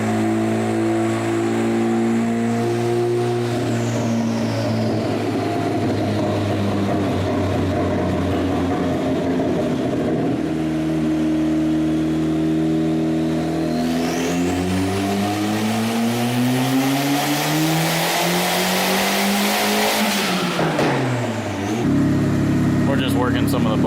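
A turbocharged all-wheel-drive Ford EF single-cam engine runs loud and steady on a dyno. Its droning tone rises and falls through several sweeping revs, with a sharp climb toward the end.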